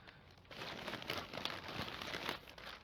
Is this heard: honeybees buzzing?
no